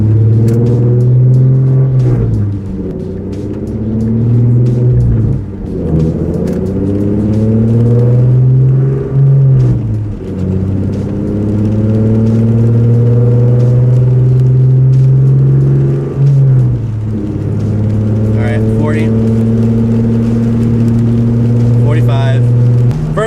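A Ford Mustang with a new clutch accelerates hard through several gear shifts, a loud steady engine drone that climbs in pitch and drops at each change, with faint talk underneath.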